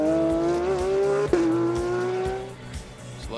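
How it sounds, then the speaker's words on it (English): A GT race car engine roars steadily at high revs during GT World Challenge America qualifying at Circuit of the Americas in 2020, its pitch holding then briefly dipping and climbing again as it drives past, loud and close. "You gotta love the sound of that engine."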